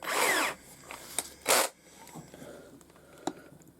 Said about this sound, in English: we can pop it in our drill